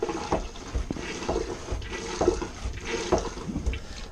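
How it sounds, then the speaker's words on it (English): Hand pump of a manual marine toilet aboard a sailing boat, drawing water in and out with repeated sloshing, gurgling strokes in a steady rhythm of about four pumps, close and moderately loud. "When this lever is switched to the left and you pump the handle, water will pump both in and out of the toilet."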